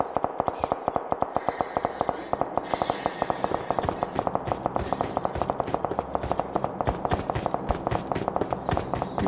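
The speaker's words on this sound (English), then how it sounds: "There's a lot of gunshots, man." Rapid, dense gunfire in the video game PUBG crackles nonstop, a relentless stream of sharp shots layered over one another, loud and close throughout.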